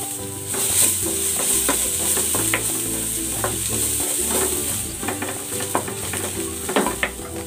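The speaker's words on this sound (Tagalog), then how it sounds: "Magigisa na ako ng bawang." Garlic sautés in a pan for braised pork, a constant close sizzle overlaid with frequent clinks and scrapes of a spatula stirring against the metal.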